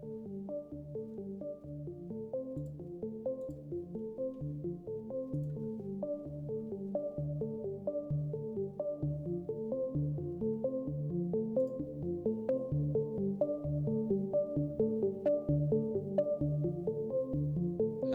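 A synthesized melody made from two basic sine waves, one filtered, plays dry without echo as a soft, steady stream of pure tones from a game soundtrack, alone and moderately quiet.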